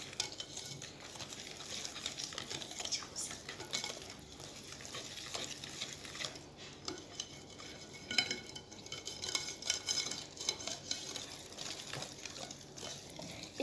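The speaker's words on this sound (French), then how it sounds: "Et là, je vais mélanger." Cookie dough with cornstarch being stirred in a bowl, a steady close scraping and clinking of a utensil against the bowl that runs throughout without talk.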